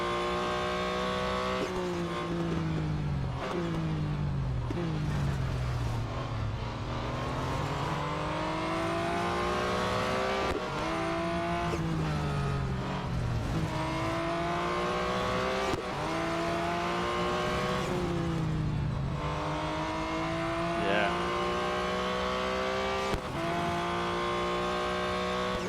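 A Porsche 911 GT1 Strassenversion screams through repeated rising revs in the Real Racing mobile game, its pitch dropping sharply at each gear change over a long, continuous run.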